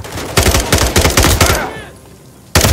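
Rapid bursts of automatic gunfire in a Call of Duty: Modern Warfare 3 firefight, loud and close, with a pause and a faint whine before another shot cuts in.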